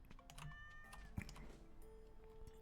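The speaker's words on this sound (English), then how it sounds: "Oh, there's a cat." A cat meows in the farming video game Stardew Valley, a short, fairly faint call rising over soft game music and ambient sounds, with a few small clicks around it.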